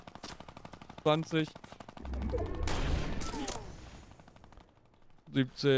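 Rapid automatic gunfire from the video game Fortnite rattles in dense bursts, with a sustained stretch of heavy firing in the middle. A voice briefly calls out numbers over the shooting.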